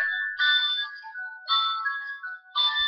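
A phone ringing in a repeated electronic tone, three bursts with short gaps, heard alone and close, while an outgoing call is placed before a sports picks chat.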